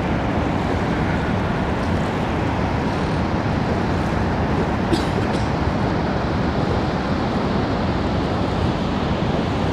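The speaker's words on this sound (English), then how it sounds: "Water's pretty violent over on this side." Rough, violent river water churns steadily near a fishing boat, a loud continuous rushing wash with no pauses and no talking.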